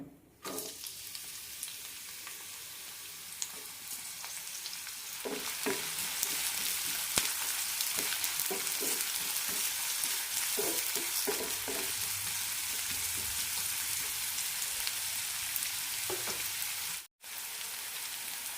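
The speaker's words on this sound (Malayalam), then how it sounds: "രണ്ട് ടേബിൾ സ്പൂൺ എണ്ണയാണ് ഒഴിച്ചിരിക്കുന്നത് ഇതിലേക്ക് സവാള ഇടാം" Sliced onion sizzles in two tablespoons of hot oil in a pan, a steady loud frying hiss with occasional stirring scrapes and pops, briefly cut near the end.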